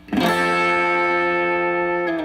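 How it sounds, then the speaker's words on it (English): A distorted electric guitar chord struck once at full volume and left ringing through an amp, sustaining steadily and loudly with a buzzy, gritty edge. "the tone that I actually have in my amp is kind of distorted"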